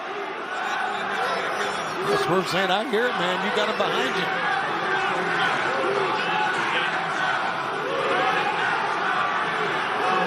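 Raucous wrestling crowd in a Glasgow arena during a main event, a dense, steady roar of chatter and shouts filling the hall, with a commentator and other voices talking over it throughout.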